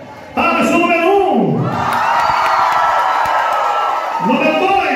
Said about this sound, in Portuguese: Palmas do número 1!